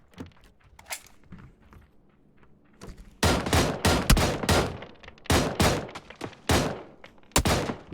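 Competitive video game match with a series of sharp, loud gunshots fired in quick irregular succession after quieter movement sounds, with no talking.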